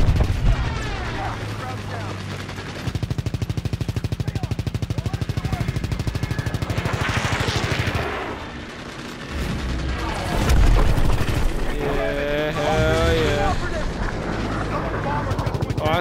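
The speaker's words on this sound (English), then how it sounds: "And I'm getting shot at. Heavily shot at." Heavy gunfire from the Call of Duty WWII campaign, a loud continuous battle din with sustained automatic fire and booming impacts running through the whole stretch, and a voice talking over parts of it.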